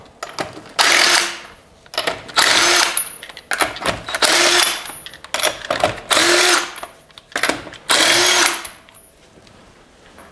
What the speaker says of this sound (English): I'll just spin them off with an impact